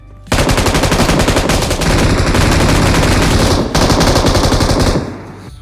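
Sustained automatic gunfire in the video game BGMI, a loud, rapid burst that runs for several seconds, breaks off briefly, then resumes before stopping.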